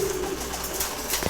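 Chila pigeons coo at feeding time, a short low steady coo near the mic over a noisy loft background, with a faint scuffle at the end.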